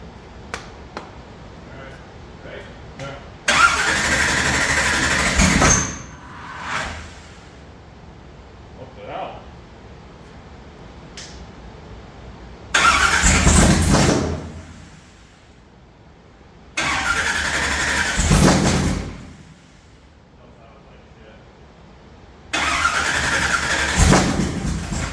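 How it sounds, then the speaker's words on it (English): A race car engine running on methanol is cranked repeatedly, with four loud bursts of starter and engine noise lasting a few seconds each, separated by quieter gaps filled with faint clicks and shop sounds. "So let's get some methanol and let's fire it up."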